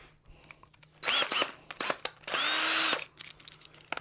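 A cordless power drill whirs in short bursts as it pre-drills and drives screws into wood, two main runs with brief pauses and small clicks between, close and fairly loud.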